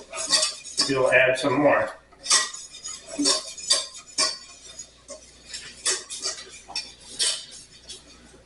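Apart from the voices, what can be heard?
stirring milk and cream mixture into lobster thermidor sauce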